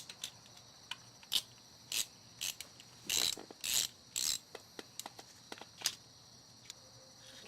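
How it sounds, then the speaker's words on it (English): A VAG rear main seal puller tool being tightened by screws, giving sparse clicking and ratcheting taps, with a few louder grinding bursts midway, close and otherwise quiet, with no voices. "screw these in and tighten them a half turn at a time to slowly press the rear main seal off"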